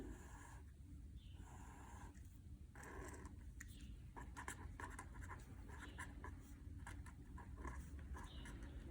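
Pen or pencil sketching a pan of Rice Krispie treats on paper, heard as close, quiet scratchy strokes in short bursts with brief pauses between them.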